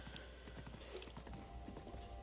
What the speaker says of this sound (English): I'll try to stay on my horse just to keep the speed up